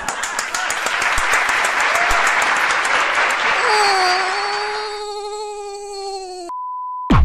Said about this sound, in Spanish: ¡El mega aplauso, por favor!